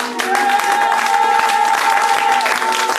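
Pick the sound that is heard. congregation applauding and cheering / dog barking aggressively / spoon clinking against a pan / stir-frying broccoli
congregation applauding and cheering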